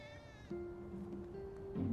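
Cats meow in the Final Fantasy 7 Remake video game: a short, high, tonal cry, then a steadier, sustained call at moderate volume over faint game ambience.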